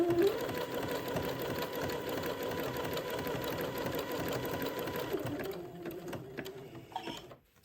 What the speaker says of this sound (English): So I'm going to sew the lace on till I'm about a ½ inch past the blue mark